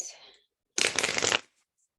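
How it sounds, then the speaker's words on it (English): A deck of tarot cards riffles in one quick shuffle burst lasting under a second, close and fairly loud, after a faint fading rustle, with no talk over it. "So Donna, the card that I got for you is the land between"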